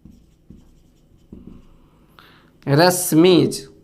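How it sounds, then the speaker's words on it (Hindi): A teacher writes an example sentence by hand during an English grammar lesson, with soft scratchy strokes spaced out at a steady pace before he starts speaking. "क्या लिखेंगे, Rashmi's mother is a very kind lady."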